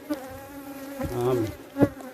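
Bees buzz around a beehive, a close, wavering drone that rises and fades as individual insects fly past the listener. There is no talk during the buzzing.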